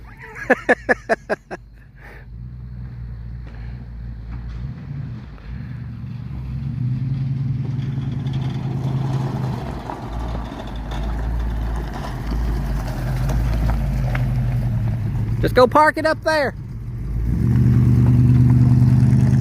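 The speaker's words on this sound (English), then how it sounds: "It's got an old school exhaust on it. That nostalgia sound." A 1969 Ford Mustang coupe engine rumbles steadily with a deep, throaty note from an old-school exhaust, revving up near the end; someone speaks briefly over it.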